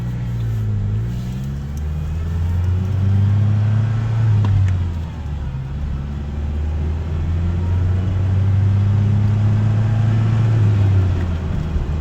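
A 1988 Ford Ranger XLT pickup with a 2.3-liter engine drives along, its steady low engine drone rising and falling with gear changes over continuous road rumble, close and loud throughout.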